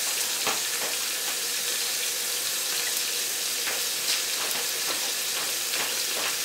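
Onions and peppers fry loudly in garlic butter on a hot surface, a dense steady hiss of sizzling with occasional crackles and pops, close up and continuous with no talking.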